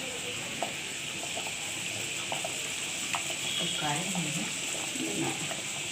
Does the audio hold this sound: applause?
no